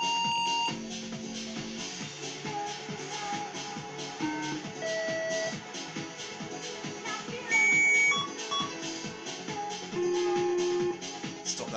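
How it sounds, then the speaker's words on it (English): Fujitsu computer emitting a run of electronic beeping tones that follow along with music, steady tonal bleeps layered over a dense musical backdrop throughout. "just through the beeps or the tone output"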